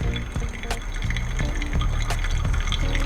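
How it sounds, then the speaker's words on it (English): Water is poured gently and low over the coffee bed in a Kalita Wave dripper, a steady, close trickle with faint splashing that runs the whole length without a break. "I'm pouring relatively gently and pouring quite close to the bed as well."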